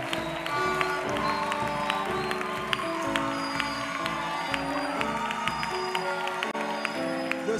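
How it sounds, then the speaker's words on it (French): A church congregation applauds and cheers in a steady, dense wash of clapping over soft background music, fairly distant and subdued throughout. "nous te donnons une forte acclamation"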